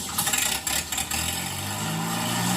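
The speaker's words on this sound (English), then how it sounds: "crank up the engines." A 1936 Case RC tractor engine runs steadily up close, a rough mid-low idle with a few uneven pulses early before settling into a continuous drone.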